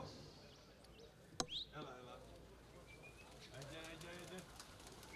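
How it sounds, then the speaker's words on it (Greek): Pigeons are released outdoors on a snowy day at a pigeon event in Siatista, giving a sharp snap and a quick flutter of wings, then faint cooing and bird calls under voices in the background. "Εδώ βγάζει τα πουλιά τώρα"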